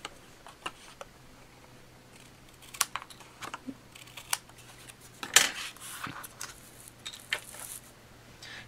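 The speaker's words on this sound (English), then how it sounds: "And I can cut off the excess." Scissors or a trimmer cutting off excess paper while making a card: scattered soft snips, clicks and rustles, quiet and close, sparse at first and busier in the middle, with no talk.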